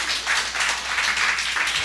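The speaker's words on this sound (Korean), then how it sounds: "박수." A church congregation breaks into applause during a Sunday sermon, a steady wash of many hands clapping together for about two seconds, fairly loud and even throughout.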